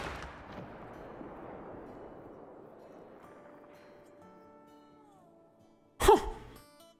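A single loud hunting rifle shot in the Call of the Wild hunting game, a sharp close report about six seconds in that decays quickly, after a long stretch of quiet outdoor ambience with soft wind.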